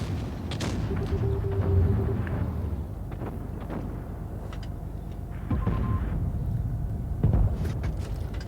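Tank cannon shots and rumbling battle noise in World of Tanks Blitz, with an E100 heavy tank in the fight, several deep booms over a constant low engine and battlefield rumble.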